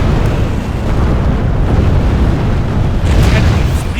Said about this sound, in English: Trebuchet bombardment.